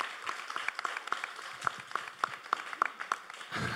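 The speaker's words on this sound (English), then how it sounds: "let's give the panelists a round of applause for coming out tonight" Light, scattered clapping from a small audience welcoming panelists at an evening pitch-practice event, individual claps distinct and fairly close, quiet and sparse rather than a full ovation.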